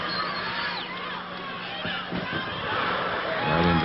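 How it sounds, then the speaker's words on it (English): A home crowd at a wrestling match cheers and yells, a dense, loud roar of many voices with whoops and shouts rising and falling, building slightly toward the end. "The crowd at this point was on its feet and yelling, "Go, Johnny, go!""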